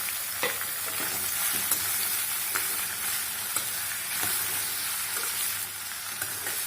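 Ridge gourd pieces sizzle steadily in a hot pan, a continuous close hiss broken by occasional sharp pops and faint stirring scrapes, with no talk.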